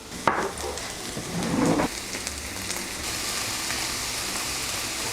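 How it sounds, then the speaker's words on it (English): Steady crackling sizzle of ground chicken frying in a pan, close by, with a brief louder burst and scrape near the start. "Can you hear this sizzling?"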